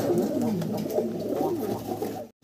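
Bombay running pigeons coo in low, rolling, throaty calls that repeat steadily, close by and fairly loud, then break off briefly near the end.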